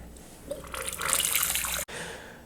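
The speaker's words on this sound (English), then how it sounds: "We're just going to be draining a bit of wort out the bottom port here, and we're going to be putting it back up top." Wort drains from the bottom port of a BREWHA BIAC conical all-grain brewing vessel and is poured back in at the top, making a continuous close splashing, trickling pour with one brief break near the end.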